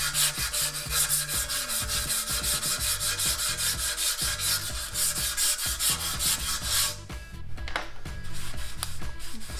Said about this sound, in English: and then after that, 80 grit emery cloth